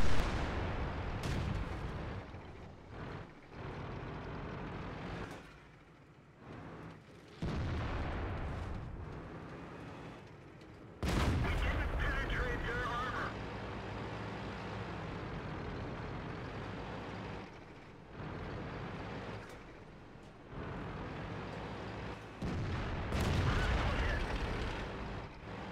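Tank cannons boom repeatedly in an online tank battle game, with several sharp heavy blasts spread over a constant rumbling engine drone.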